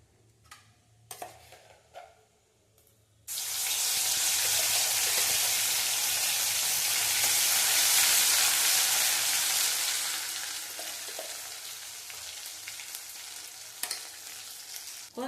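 Ground spice paste drops into hot oil with a sudden loud burst of sizzling after a few seconds of faint kitchen clatter, then a steady bright frying hiss that slowly eases.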